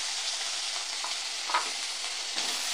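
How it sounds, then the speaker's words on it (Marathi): Potatoes sautéing in a small spoonful of oil in a pan, a steady soft sizzle with faint stirring scrapes, close and even throughout, no talking. "परतायचे बटाटे"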